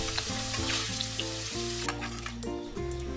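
Beef sizzles in an oily pan with a bright, steady hiss and faint stirring, while music plays loudly over it.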